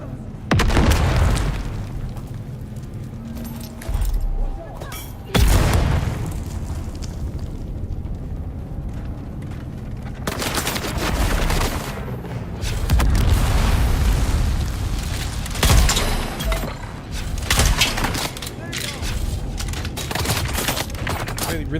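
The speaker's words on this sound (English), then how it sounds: "really like their grenades, eh?" Grenades go off in the video game Dune Awakening, a string of heavy booming blasts with rumbling tails and scattered gunfire, loud and close, with a voice talking over parts of it.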